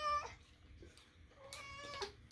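A male cat meows a couple of times indoors, short harmonic cries close to the listener with a quiet pause between them, heard alone without talk.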